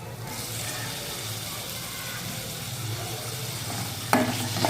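Onion, tomato and green chili being sautéed with turmeric in a pan, a steady close sizzle with stirring scrapes throughout and a sharper clatter near the end.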